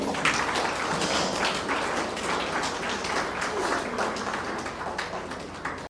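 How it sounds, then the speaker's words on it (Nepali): Wedding guests clapping together at a ceremony, a dense, continuous burst of applause from a crowd that holds steady for several seconds, close and fairly loud, without talk. "ताली बजाऊ हामी।"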